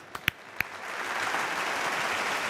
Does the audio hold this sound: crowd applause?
yes